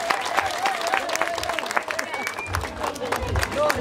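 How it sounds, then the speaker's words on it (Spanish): An audience at a community event bursts into sustained applause, dense clapping with crowd murmur and scattered voices throughout. "vamos a darle un aplauso bien fuerte a Tomás"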